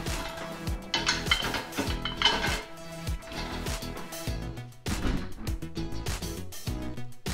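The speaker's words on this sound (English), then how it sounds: "So we're just gonna put them into the dishwasher." Metal waffle maker pans clatter and clink as they are loaded into a dishwasher in a kitchen, a busy run of close, sharp knocks and rattles with brief pauses between.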